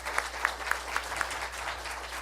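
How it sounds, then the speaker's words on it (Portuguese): Applause from an audience at a Brazilian agricultural dialogue event, greeting the CNA team; a brief, fairly faint patter of clapping with a few sharper claps standing out at a steady pace, soft and at a distance throughout. "uma salva de palmas para vocês todos"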